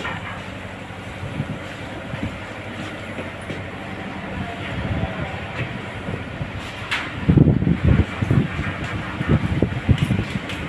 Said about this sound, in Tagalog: Grabe ang ulan, kusog kayo ang hangin.